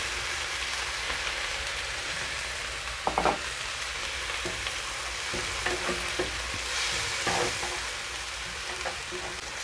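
Chicken fries in a pan, and light soy sauce goes in over it, giving a steady sizzle with scattered crackles and spits. The frying holds at a moderate level for the whole stretch.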